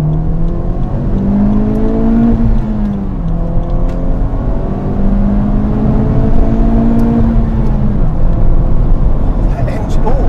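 Honda Civic Type-R FK8 engine accelerating on the road from the cabin, a loud droning note that climbs in pitch, drops at a gear change and climbs again, with someone talking over it.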